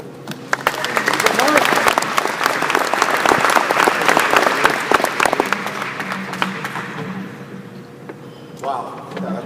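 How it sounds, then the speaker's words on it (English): Warm, loud applause fills a room at the Michigan Mortgage Lenders Association's 2015 James T. Barnes Memorial Award presentation, then tapers off as voices and speech come through underneath. "Thank you for the warm applause."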